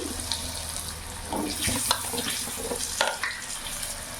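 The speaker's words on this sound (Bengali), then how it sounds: "ওই তেলের মধ্যে এখানে আমি আলুগুলো ভেজে নেব।" Sliced potatoes fry in oil left in the pan after eggs were fried, giving a continuous close sizzle with a few stirring knocks and scrapes. No one speaks.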